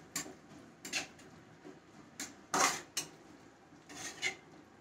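A utensil clinks and scrapes against a pan while food is mixed, several sharp metallic knocks at irregular intervals, one louder clatter mid-way, fairly quiet with no talking.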